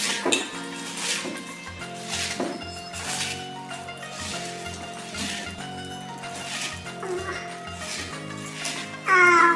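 Ingredients for a muntha masala snack clattering and scraping in a bowl as they are mixed, with repeated rhythmic clinks of a spoon against the bowl, close and steady, under faint background voices.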